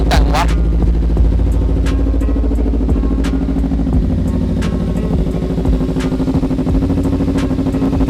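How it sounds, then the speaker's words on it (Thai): Black 2015 Kawasaki Ninja 300 ABS motorcycle, long parked, close by with its exhaust rumbling at idle and several sharp throttle blips and revs rising and falling over the steady engine note. "เดี๋ยวผมก็จะมา เบิ้ล ให้ฟังเสียงท่อกัน"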